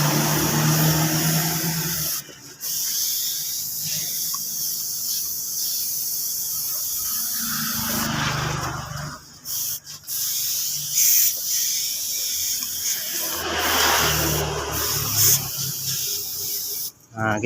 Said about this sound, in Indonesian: kita semprot clear semuanya agar warna itunya itu bisa tersambung